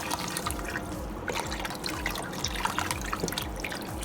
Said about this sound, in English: Add all that beef broth.